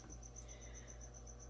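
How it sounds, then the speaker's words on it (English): Feeder crickets chirp inside a tarantula enclosure, a fast, even train of high, thin chirps repeating throughout, faint and steady against a quiet background. "I did throw some crickets in there for him."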